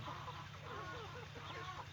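Free-range backyard chickens let out during the rainy season cluck faintly in a low, continuous murmur under steady background noise.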